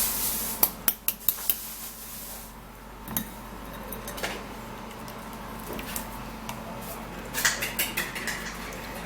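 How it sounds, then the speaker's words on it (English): A bowl and strainer are handled for straining juice, giving sharp metallic clinks and clatters in small clusters near the start and end, with quieter scraping and handling noise between and no talking. "I actually get my bowl and then get my strainer"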